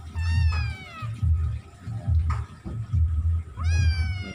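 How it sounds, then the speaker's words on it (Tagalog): A pet cat begging for food meows close by, with about three drawn-out, rising-and-falling cries spaced apart over a low, pulsing rumble. "Ang cute-cute naming pusa guys."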